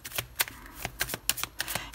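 Tarot cards are handled and laid over others, a quick close series of crisp flicking and slapping snaps in an irregular rhythm, with no talk.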